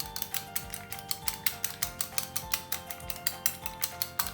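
Eggs for an omelette are whisked briskly in a bowl, a fast, even series of sharp metallic clicks repeating several times a second, close and clear with no talk.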